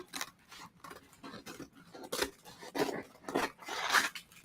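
Scissors snip through crepe paper while trimming a strip for a plumeria paper flower, giving a series of short, close, crisp cuts and rustles that come in irregular bursts.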